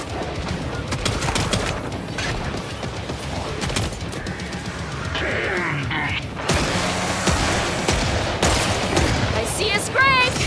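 Rapid bursts of gunfire from Killing Floor 3 crackle and boom almost without pause, loud and close, with crashes and chaotic game effects mixed in and voices talking over the shooting.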